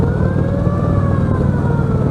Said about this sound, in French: Avec une sirène américaine.